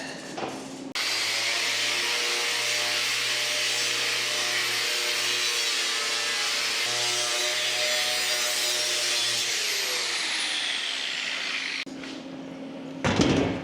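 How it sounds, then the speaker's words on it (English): A flap disc grinds rust off steel stock for a log splitter build, a loud, steady abrasive roar running about eleven seconds with a ringing motor tone, then cutting off and spinning down. "I'm going to go ahead and run a flap disc over it, take off the rust."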